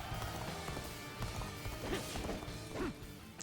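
Horse hooves galloping in Dynasty Warriors Origins, rapid irregular thuds amid battlefield clashes and crashes, moderately near and faint under the general combat noise.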